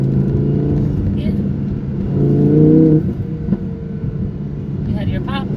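An Audi R8 V10 plus accelerates under launch control, its engine note climbing in a rising whine before easing off. Voices talk over the car throughout.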